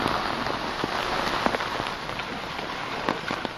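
Heavy rain pours steadily in Chennai, a dense continuous hiss with scattered sharper drops and splashes, even and unbroken throughout, with no voices.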